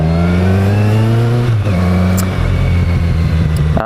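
A Kawasaki Versys 1000 motorcycle engine revs loudly up close, holding a steady drone before dropping and climbing again in pitch, with no voices over it.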